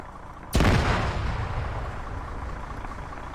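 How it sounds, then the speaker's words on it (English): A single loud explosion in a combat video game goes off suddenly with a sharp broadband blast, then rolls into a long, decaying rumble that stays loud until the end. "If we hear an explosion, that might be because of why. Yep, there it is."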